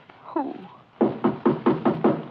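A door in a radio mystery drama is knocked five times in a steady, evenly spaced run of loud, close raps, right after a brief voice.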